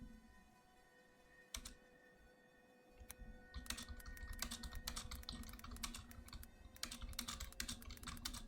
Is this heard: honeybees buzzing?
no